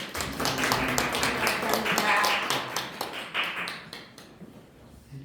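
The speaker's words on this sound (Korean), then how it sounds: "우리 박수로 환영하겠습니다" A church congregation at a Sunday service claps to welcome a newly arrived visitor, a dense patter of hands that fades toward the end, with some voices mixed in.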